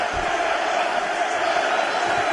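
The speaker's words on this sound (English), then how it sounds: "So the crowd voicing its appreciation." A crowd at a UFC fight cheering in appreciation after a round, heard as a continuous, fairly loud roar of many voices that holds steady throughout.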